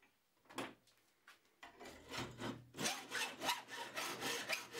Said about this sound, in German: An den Kanten des Aluprofils befinden sich kleine Stücke Flacheisen, von diesen wird das Sägeblatt geführt.